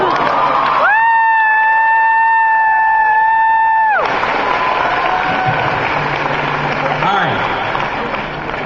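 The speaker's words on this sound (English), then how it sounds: "Perhaps if we all put our hands together and clap" A convention crowd at a Psych panel, San Diego Comic-Con 2013, breaks into loud, dense cheering and clapping that fills the hall after a sustained electronic tone fades, with whoops and voices mixed in.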